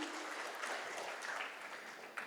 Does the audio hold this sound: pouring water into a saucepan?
no